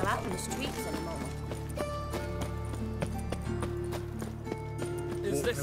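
Rhythmic hoofbeats of a horse clip-clop steadily in The Witcher 3, with occasional whinnies and a speaking voice over the game soundscape.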